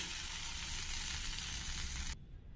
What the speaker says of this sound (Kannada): ಈ ಒಗ್ಗರಣೆನ ಈಗ ಈ ತಂಬುಳಿಗೆ ಬೆರೆಸ್ಕೊಳ್ತೀನಿ